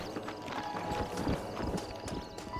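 Horse hooves clopping at a steady walking pace in the Western video game Red Dead Redemption, close and fairly loud with a busy background.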